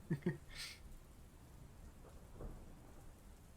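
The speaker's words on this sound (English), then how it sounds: "Oh, it's raining now." Steady rain falls with a low rumble of thunder, a soft continuous wash after two sharp knocks at the start.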